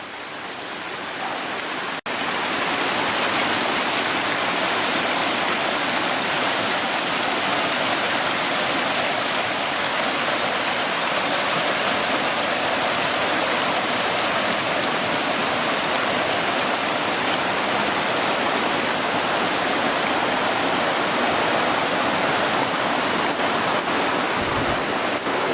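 A waterfall at George Creek beside a large cave pours steadily, a loud, constant rushing roar of falling water heard up close, unbroken for the whole stretch.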